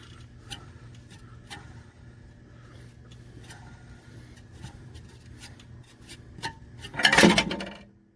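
Mechanical fan being unscrewed from the engine of a 2003 Chevrolet Suburban 1500: sparse, light metallic ticks over a low hum, then a sudden loud clattering rush of spinning and rattling near the end.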